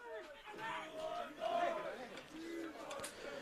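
Supporters of Sydney United 58 FC chant and shout at an NPL NSW football match against Mt Druitt Town Rangers, the crowd's voices swelling and dipping in a sustained roar from the stands, moderately distant.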